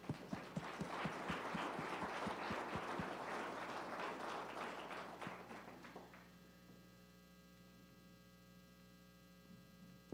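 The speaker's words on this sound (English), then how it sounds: "I think everyone should go ahead and give Colton Messick a round of applause." An audience at a Hall of Fame ceremony applauds Colton Messick, a dense crackle of clapping that fades out after about six seconds and leaves a steady mains hum.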